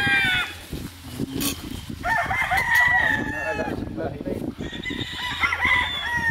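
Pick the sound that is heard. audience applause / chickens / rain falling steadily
chickens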